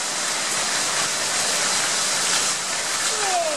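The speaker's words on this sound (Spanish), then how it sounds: "Es la primera tormenta que he experimentado aquí en Tucson. Sí. Mucho viento, relámpagos, mucha lluvia." Heavy rain pours steadily during a storm in Tucson, a dense, unbroken hiss of downpour from start to finish, loud and constant with no voices.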